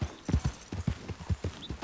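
Horse hooves in Red Dead Redemption 2 clip-clop in a quick, steady rhythm, fairly quiet and close, with no talking over them.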